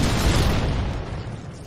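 Grenade explosions in Halo CE inside a tunnel, a dense continuous low rumbling blast filling the whole moment, loud and close.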